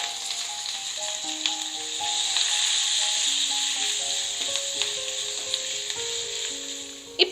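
Curry leaves, mustard seeds and urad dal with a pinch of asafoetida sizzling in hot oil for an onion chutney tempering, a steady close hiss with small crackles and pops, alone without talk.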